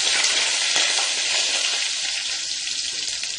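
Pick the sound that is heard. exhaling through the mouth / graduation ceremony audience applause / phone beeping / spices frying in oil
spices frying in oil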